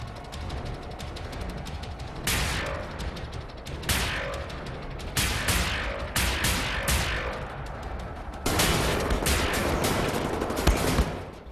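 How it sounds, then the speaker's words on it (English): Loud automatic gunfire fills the Wolfenstein: The New Order game as enemies are shot down, with dense repeated bursts of rapid shots and a long sustained volley near the end. "Oh, holy shit, I killed him in like 4 shots."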